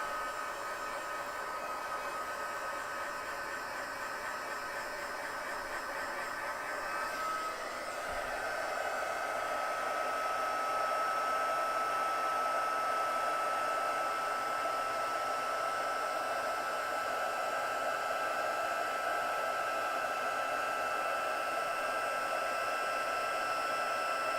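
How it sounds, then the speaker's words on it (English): A heat embossing tool blows hot air onto foil-reactive embossing powder during a craft session, giving a steady, loud broadband whoosh like a hair dryer that runs on without a break and with no talk. "I'm just about to do the heat emboss, ready for it to get foiled."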